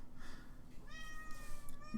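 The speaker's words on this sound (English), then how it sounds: "all the meowing today has been Despy" A pet cat meows indoors, a faint drawn-out cry rising over a low steady hum, followed by a shorter second call.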